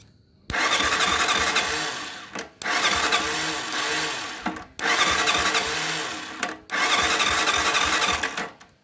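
A motorcycle with stalling, hard starting and low compression, turned over by its electric starter: four separate bursts of cranking, each about two seconds, with short pauses between, close and fairly loud.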